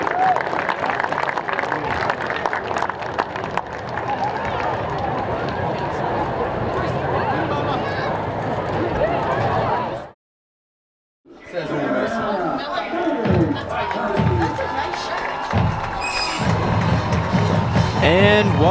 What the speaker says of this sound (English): how about a nice round of applause for your Shaler Area Athletic Hall of Fame class of 2022